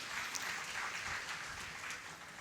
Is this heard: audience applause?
yes